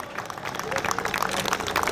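Audience applause welcoming an honour at a road inauguration ceremony, a steady patter of many hands clapping across the whole stretch, with crowd murmur mixed in.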